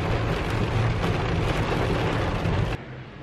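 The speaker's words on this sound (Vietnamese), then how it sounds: "Mưa rào rất lớn." Heavy rain pours down outdoors during a New Year's Day outing, a loud, dense, steady hiss of falling water that cuts off abruptly near the end.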